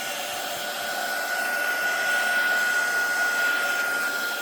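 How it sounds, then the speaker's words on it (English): Steady loud whoosh of a heat tool blowing on the back of watercolor paper, a continuous airy hiss with a faint high whine, unbroken for the whole stretch. "if you go on the back with your heat tool"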